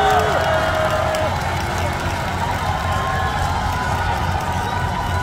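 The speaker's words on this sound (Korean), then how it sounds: "한번 이분들에게도 한번 큰 박수 보내주시면 정말 감사할 것 같습니다" A large outdoor crowd at a Daejeon festival concert applauds and cheers, a continuous roar of clapping and voices with occasional higher shouts standing out.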